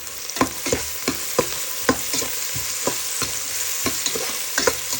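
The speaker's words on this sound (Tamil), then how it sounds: "முழுக்க உப்பெல்லாம் போட்டுட்டு நல்லா கிளறுவோம்." A spoon stirs garlic, fennel and mustard seeds frying with salt in hot oil. About a dozen sharp scraping strokes fall in a loose, regular rhythm over a constant close sizzle, and nobody speaks.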